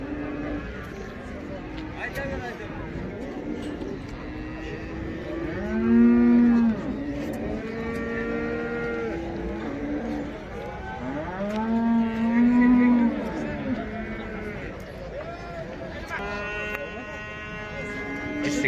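Cattle, including year-and-a-half-old bulls, low repeatedly at the Taraz livestock market, with several long loud moos rising over a busy background while people talk nearby.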